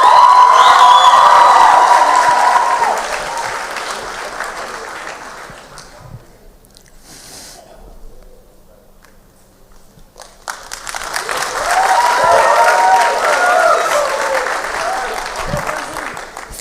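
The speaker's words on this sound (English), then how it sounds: "Let's give them all a big round of applause for their incredible work and commitment." An audience at an Indian cultural dance show claps and cheers loudly, the applause fading to a quiet lull midway before surging back with whoops and shouts.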